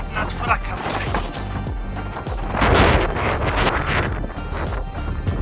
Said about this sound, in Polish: Wieje nam w twarz, spycha nas z tego powietrza